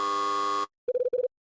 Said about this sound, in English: My buzzer sounds.